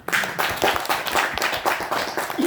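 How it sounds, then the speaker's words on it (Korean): Steady clapping from a small group, a continuous patter of hand claps filling the clip at moderate loudness. "박수 한번 보여주세요"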